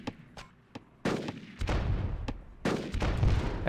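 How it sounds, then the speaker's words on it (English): Artillery fire in the strategy video game Rise of Nations, a series of sharp booming shots and heavy rumbling blasts, some overlapping into sustained thunder, loud and close. "I do want my artillery to hit this."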